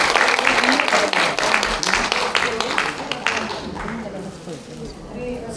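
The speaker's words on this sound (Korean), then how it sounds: "박수 부탁드립니다." Audience applause in the assembly hall of the National Assembly at the 9th World Korean Women's Conference, steady clapping lasting several seconds and tapering slightly toward the end, with speech mixed in beneath it.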